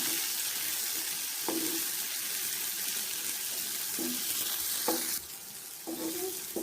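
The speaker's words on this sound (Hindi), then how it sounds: "अभी इसमें प्याज डाल देंगे और इसको भी थोड़ा फ्राई कर लेंगे।" Onions sizzle as they fry with already fried potatoes in a pan for an Afghani omelette, with a steady hiss, a few soft scraping stirs and a brief dip in the sizzle near the end.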